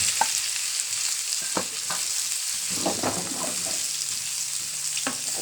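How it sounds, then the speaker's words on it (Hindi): Mustard seeds and cumin sizzle in hot ghee for a tadka, a steady frying hiss with scattered pops and crackles, close and moderately quiet. "ये देखें, राई और ज़ीरा डाल रहे हैं हम भगार में।"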